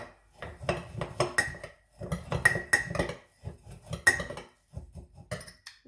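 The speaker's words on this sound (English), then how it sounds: "Then I'll stir this together." A spoon stirs the dry ingredients for chocolate overnight oats in a glass container, making quick bursts of clinking and scraping against the sides, close and fairly quiet, with brief pauses between strokes.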